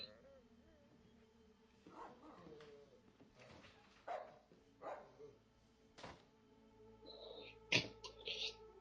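In a scene from the film Hannibal, a dog gives a few soft barks and whimpers amid quiet room sounds and brief bursts of noise, fairly faint and scattered through the scene.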